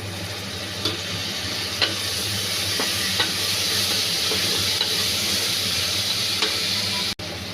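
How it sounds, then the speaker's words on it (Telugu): Mutton keema frying with garam masala, a steady close sizzle under a spoon scraping and stirring at irregular intervals, with one sharp knock near the end. "గరం మసాలా బాగా మిక్స్ చేసుకోవాలి."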